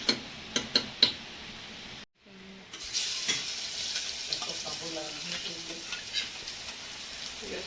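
Tempering spices hit hot oil: a few sharp taps and a short silence, then a steady, close crackling sizzle that holds to the end.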